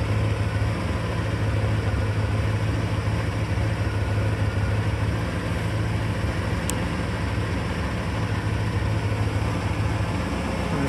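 A stock 1984 Chevrolet Corvette with Crossfire Injection idles at about 800 RPM after an ice-cold start, giving a steady, even low drone that stays level throughout with no talk.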